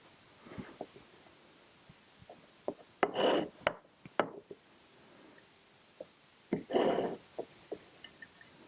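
Hands kneading cooled sausage and onion mixture into sourdough dough for stuffed breakfast rolls, close soft squishing and rubbing in two louder bursts, with scattered light taps and knocks between.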